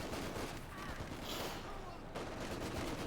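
Gunfire rattles through a Company of Heroes 2 battle, a loud, continuous barrage of overlapping shots and bursts with a brief lull midway, mixed with battlefield noise.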